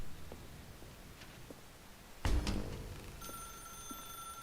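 A telephone rings in The Stanley Parable, a steady electronic tone that follows a brief clatter, heard alone without voices.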